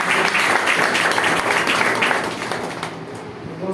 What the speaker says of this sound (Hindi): बहुत जबरदस्त तालियां